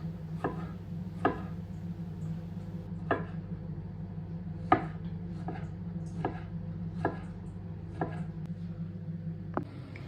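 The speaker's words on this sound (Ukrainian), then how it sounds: "помідори коктейльні теж беру і нарізаю напівкільцями." A knife slicing cocktail tomatoes into half-rings chops repeatedly against a cutting board, crisp taps at an irregular, unhurried pace, close by over a low steady hum.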